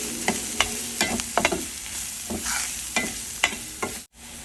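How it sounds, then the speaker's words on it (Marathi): Red chilli powder and garam masala stir-fried in a pan make a low sizzle, punctuated by irregular scraping clicks of a spoon stirring, then a brief cut to near silence at the end. "आपण मसाले परत परतून घेऊया"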